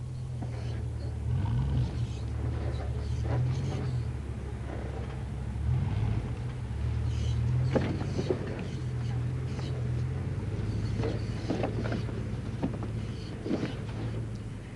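A Camel Trophy 4x4 crawls slowly over rough off-road obstacles, its engine a steady low rumble with slight shifts in pitch, while a voice talks over it.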